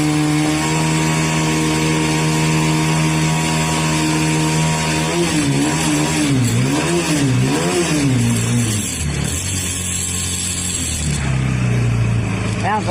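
A Kawasaki Barako motorcycle engine runs at steady idle, then revs up and down in several swells before settling back to a loud, constant idle.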